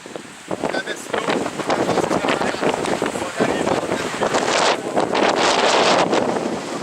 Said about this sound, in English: it is quite windy up here